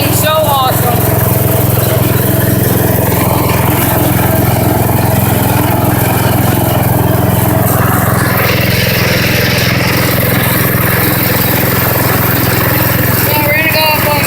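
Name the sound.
motorcycle exhaust sound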